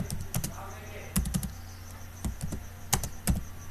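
Someone types on a computer keyboard in irregular bursts of crisp, close key clicks with short pauses between, in a quiet room.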